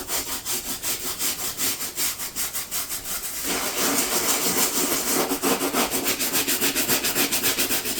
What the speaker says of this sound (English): I'll take this softish bristle nail brush and just give it a little